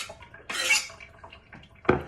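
Dates and apple being mixed for charoset in a bowl: scraping and clinking of a utensil against the bowl in a few brief bursts, with one sharp knock near the end.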